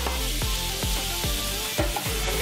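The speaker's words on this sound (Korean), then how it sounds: "삼겹살 야채구이." Pork belly and vegetables grilling in a pan, giving a steady, dense sizzle with regular scraping stirs about every half second, close and loud with no talk.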